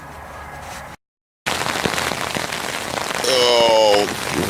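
Rain falls on a camping hammock setup, a close patter of drops that drops out briefly, then returns denser with scattered sharper taps, and a brief tonal sound rises near the end.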